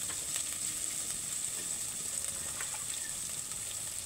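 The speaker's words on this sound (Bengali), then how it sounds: "এইবার আমি এই তেলেই পেঁয়াজ একটু কাঁচামরিচ দিয়ে দিলাম" Onion and green chili frying in oil, a steady, fairly soft hiss and sizzle continuing without a break, no voices.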